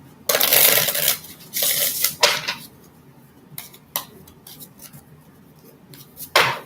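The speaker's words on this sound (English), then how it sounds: "Let's get a couple more good shuffles here just to pick up the energy." Tarot cards being shuffled by hand: several short, crisp bursts of riffling and flicking come in uneven clusters, separated by near-silent gaps.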